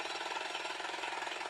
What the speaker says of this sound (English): That's the sound of Jackhammers?